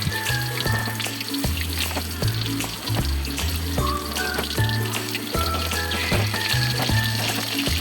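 Loitta fish fry in hot oil with a busy, crackling sizzle and bubbling, close and steady, over a rumbling, uneven hum in the background.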